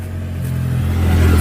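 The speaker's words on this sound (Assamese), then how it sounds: "বাইক আহিছে বাইকখন যাবলৈ দিয়ক" A motorbike approaches on an Assamese roadside, its engine rumble building steadily louder over the brief moment as it nears and passes, with no talk over it.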